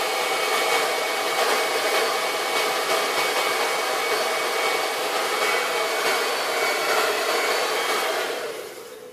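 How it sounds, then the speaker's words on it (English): A blow dryer roars steadily at close range for several seconds with no talking, then its airflow begins to die down right at the end. "Now we're going to take the blow dryer,"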